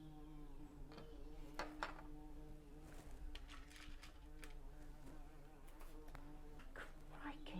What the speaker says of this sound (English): oh no, it's a bumblebee